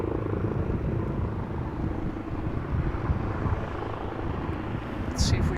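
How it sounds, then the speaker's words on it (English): A police helicopter near Amsterdam Schiphol Airport drones steadily in the distance, a low rumbling wash of rotor noise that carries on throughout with a faint higher sound near the end. "I'm hearing a helicopter again. Ah, that's the police helicopter."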